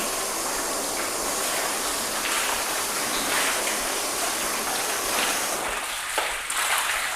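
Water rinsing off sealant-coated car paint, a steady broadband hiss and gush of running water that stays even and fairly close throughout, with a brief shift in the flow near the end.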